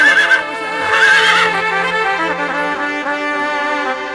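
A horse gives a long, loud whinny close by, its wavering cry rising and then trailing off over about four seconds, heard alone.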